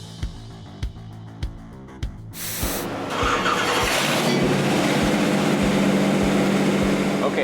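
A Ford 7.3L Godzilla V8 on a dyno: sharp rhythmic clicks, then a loud burst as the engine catches and settles into a steady, smooth running roar, with talk in the background.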